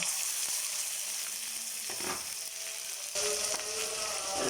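Ground spice paste is added to onions frying in oil, a loud steady sizzle that flares with a burst of crackling as the paste goes in, with occasional stirring.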